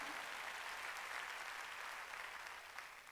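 Congregation clapping together during a Wednesday worship service in a church, steady dense applause filling the room at moderate distance, even and sustained with no voices on top.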